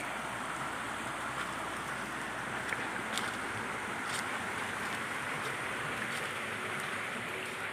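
Water flowing in a rural stream, a continuous broad rushing wash at steady level with no voices.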